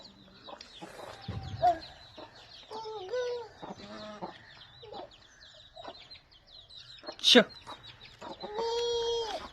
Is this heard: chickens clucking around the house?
yes